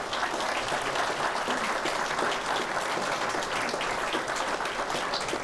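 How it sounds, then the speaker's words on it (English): An audience at a city's State of the City presentation applauds a longtime Rotarian, giving a steady, dense wash of clapping from many hands that holds evenly throughout, heard from within the room. "So let's give him a round of applause."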